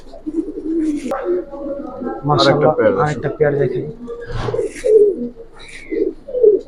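Giribaz pigeons of a Palla line, kept as breeding pairs for sale, coo and murmur nearby in repeated low rolling calls while someone talks over them.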